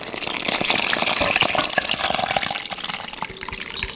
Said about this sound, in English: I'm now adding the wet ingredients